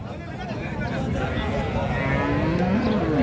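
Friesian dairy cows and calves mooing at a busy market, a loud drawn-out moo with rising and falling pitch over the steady crowd murmur and talk of the market.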